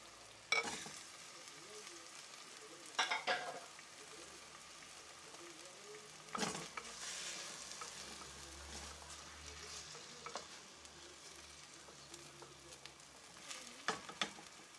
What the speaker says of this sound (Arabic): نقلو معاها اللحم.